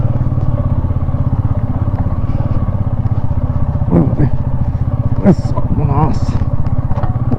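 A Royal Enfield Meteor motorcycle climbs a steep, rough mountain road toward Mustang, its engine thumping in a steady loud rhythm while the low engine guard scrapes and clatters against stones in brief knocks, with people talking over it.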